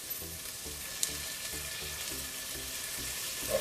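Potatoes and onions frying in a pan with a continuous crackling sizzle, close and steady, with a faint rhythmic low thumping underneath.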